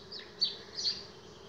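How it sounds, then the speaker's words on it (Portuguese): Jataí stingless bees buzzing around a nest they are building, a faint steady drone with two brief closer passes. "Essa aqui é a abelha Jataí."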